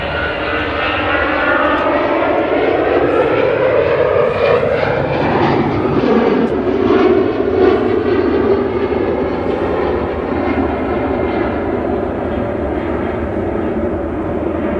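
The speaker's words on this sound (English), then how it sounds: "There's also another Tui Dreamliner coming in from Cancun." Airliner arriving at Manchester Airport, its jet engines roaring loud and close in a continuous sweeping whine as it passes, then slowly fading.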